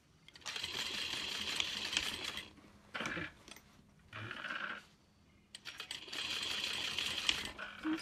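A sewing machine stitches a handbag in three bursts of rapid, close mechanical whirring and clatter, separated by short quiet pauses with faint handling sounds.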